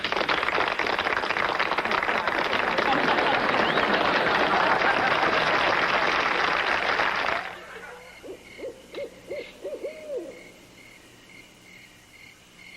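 A crowd at a homecoming dance applauds the newly crowned king and queen, a dense, steady burst of clapping lasting several seconds before cutting abruptly to a quiet night with a few owl hoots and faint crickets.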